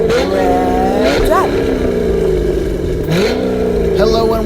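A car engine revs loudly in repeated rising and falling sweeps, each surge climbing then dropping back, with voices talking over the engine noise.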